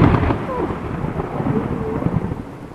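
Deep rumbling thunder rolls under steady rain, loud at first and then lingering as a low growl.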